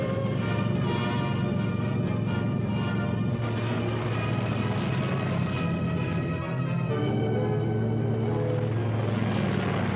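British fighter aircraft in wartime flight, their propeller engines giving a loud, steady droning roar that fills the whole stretch, shifting slightly in pitch partway through as the planes pass.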